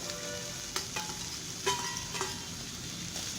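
Small carrot pieces and five green chillies fry in hot oil, a steady close sizzle with occasional louder crackles and spatters.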